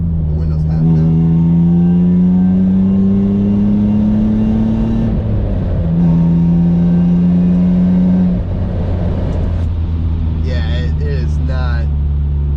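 A BMW E36 328is engine revs up and down in long sustained pulls, with a harsh, buzzy high-pitched rasp over the drone and some wind noise through a half-open window throughout.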